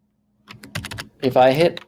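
Computer keyboard shortcut keys being pressed while drafting in AutoCAD Civil 3D: a quick burst of close, crisp key clicks, followed by a person talking.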